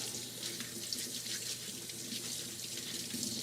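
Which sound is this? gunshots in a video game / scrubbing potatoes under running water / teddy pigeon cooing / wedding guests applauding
scrubbing potatoes under running water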